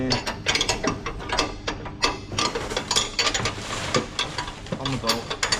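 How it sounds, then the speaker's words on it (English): A ratchet tightens a bolt while side steps are fitted to an Isuzu D-Max, producing a rapid run of close, crisp clicking strokes that goes on throughout with a little background noise. "and then you can put your ratchet stand in there as well."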